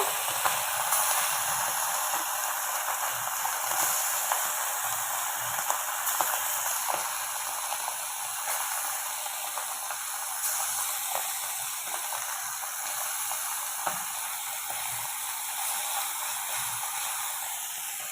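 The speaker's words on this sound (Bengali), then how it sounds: "তো হালকা করে ভেজে নিচ্ছি, তারপর এটাকে সর্ষের ঝাল করব।" Mukundi sea fish fry lightly in a pan, producing a steady, close sizzling hiss that holds evenly throughout, with faint pops and no talk over it.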